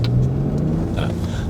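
A Land Rover engine pulls under load above 2000 rpm while accelerating from a start, producing a steady low rumble with a faint droning hum throughout the short burst.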